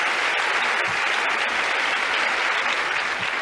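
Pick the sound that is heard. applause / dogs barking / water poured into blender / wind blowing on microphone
applause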